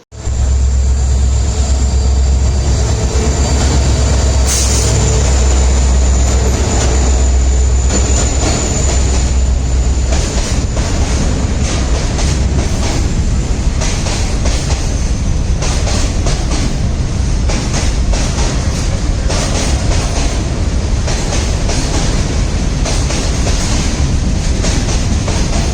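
Matsyagandha Express train (Mangalore Central–LTT, ICF coaches) at Murdeshwar station on the Konkan Railway: a steady, loud rumble of rolling stock with low engine drone and scattered wheel clatter, continuous for the whole stretch.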